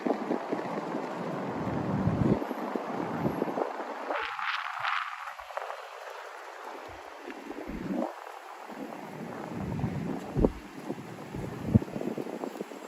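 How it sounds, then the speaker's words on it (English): Strong wind buffets a microphone outdoors at night in Miami, a loud rushing roar with gusty rumbles and short lulls, no voices over it. "I feel like I'm walking in a hurricane tonight. The wind is crazy."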